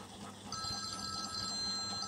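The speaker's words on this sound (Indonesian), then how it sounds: "Telepon" A telephone rings steadily in a quiet room, the electronic trill continuing faintly in the background with no one talking.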